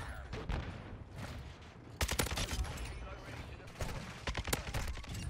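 Kastov 762 assault rifle fired in a modern first-person shooter game, with sharp bursts of rapid automatic gunfire in several clusters, loud and close, between brief quieter gaps.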